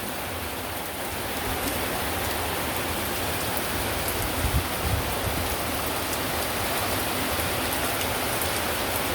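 Heavy rain pours steadily, a dense, loud hiss of drops drumming on surfaces throughout, with no voices.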